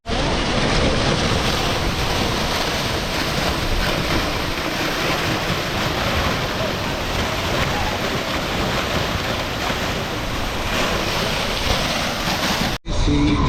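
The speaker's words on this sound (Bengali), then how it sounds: "ঝর্ণার পাশ দিয়ে গেলাম আমরা" A roadside waterfall in the Sikkim hills, passed while on a motorbike tour, gives a loud, steady broadband rush that holds unchanged for the whole stretch, blended with wind, before cutting off abruptly near the end.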